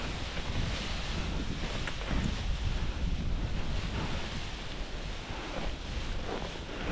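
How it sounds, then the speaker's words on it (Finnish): Steady, loud wind roaring across the microphone on a frozen sea during a snowkiting trip, with a broad rushing noise that barely changes throughout, no voices. "Vähän vino tuuli"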